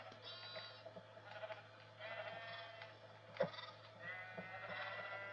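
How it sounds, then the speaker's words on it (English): Sheep bleating in the Minecraft video game, a few faint repeated bleats over a quiet steady background hum. "Get out of my way. You stupid sheeps."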